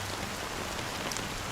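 Steady rain, a dense, even hiss of drops pattering on surfaces, close and continuous with no voices.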